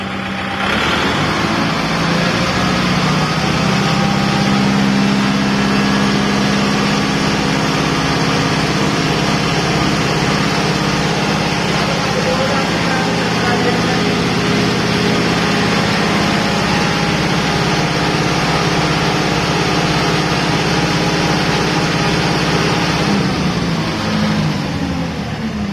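A 2020 Kubota MU5501 diesel tractor idles in neutral, a steady, unbroken engine drone with a low hum that stays loud and even throughout, with no one speaking.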